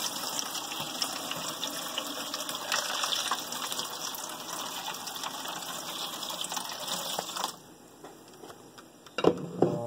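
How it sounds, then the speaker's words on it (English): Hot water pours in a steady gushing stream for several seconds, close by, then cuts off abruptly, leaving a quieter tail with a few faint knocks and splashes. "I'm gonna pour the hot water in."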